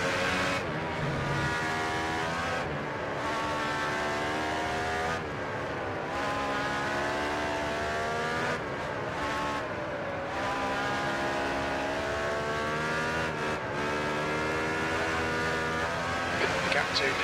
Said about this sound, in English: Even with the engine turned all the way up, there's nothing I can do.